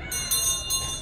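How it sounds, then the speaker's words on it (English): Old schoolhouse bell at Knott's Berry Farm rung gently, two or three light metallic strikes with a shimmering tonal ring, close and fairly soft within a single second. "Now, Isaiah, would you mind ringing this bell nice and gently?"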